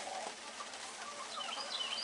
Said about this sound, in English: 6 more chickens. My wife feeding chickens.